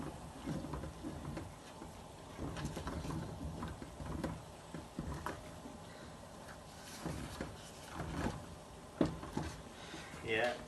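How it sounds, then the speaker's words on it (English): Thick Zimbabwean sadza is stirred in a pot, making repeated dull scraping knocks and thuds at a laboured pace, with a person talking throughout. "Then I'll stir again."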